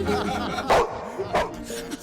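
A voice imitates an aggressive old German shepherd dog, giving two loud, close bark-like yelps woven into ongoing talk.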